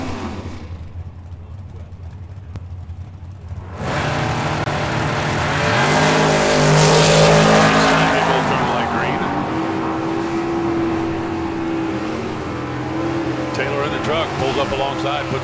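Drag race cars at a nationals event roar down the strip, starting after a quieter lead-in, then building into a loud, sustained engine howl with rising and shifting tones, alongside a public-address announcer's voice.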